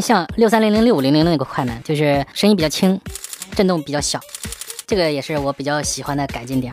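A Sony A7R III fires its mechanical shutter in a continuous burst, a rapid, light clicking run between stretches of someone talking, followed by a brief clicking again.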